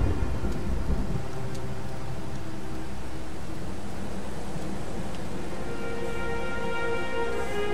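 Rain falls steadily in the video game Blues and Bullets, a dense hiss of downpour with a low rumble of thunder near the start, continuing evenly with no talk.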